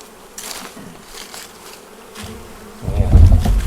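Honeybees buzz around a nucleus hive in the Ozarks, a close, wavering hum with individual bees passing near, swelling louder toward the end.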